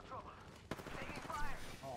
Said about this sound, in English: This dude's using a charge rifle